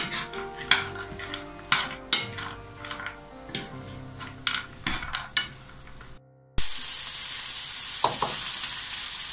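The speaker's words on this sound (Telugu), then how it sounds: "పుదీనా, కొత్తిమీర, ఇవన్నీ వేసి ఒకసారి మనం ఫ్రై చేసుకోవాలి" Mint, coriander and spinach frying for palak paneer: crisp scrapes and clinks of stirring over a light sizzle for about six seconds, then a brief drop and a louder steady hiss with a couple of stirs.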